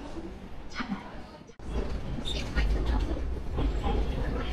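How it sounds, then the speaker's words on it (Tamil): A Seoul train rumbles into the station with a deep, building roar, a sharp clack near the start and rising wheel noise, heard from nearby on the platform. "ட்ரெயின் வந்துருச்சு."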